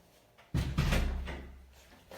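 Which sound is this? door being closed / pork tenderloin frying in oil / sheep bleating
door being closed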